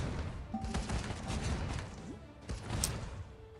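Rapid gunfire from the Iron Marines strategy game, with bursts of shots and thuds layered over busy battle noise, including a louder cluster near the end.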